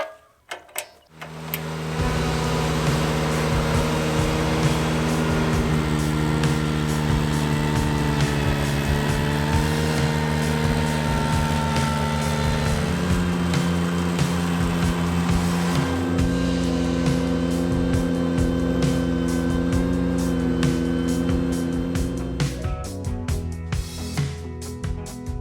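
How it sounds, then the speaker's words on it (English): A power rake runs over a lawn with a loud, steady engine drone and buzzing harmonics. It starts up after a brief rough moment, holds for about twenty seconds with shifts in pitch, and ends with some clatter. "let's get to work with the power rake and see how it does"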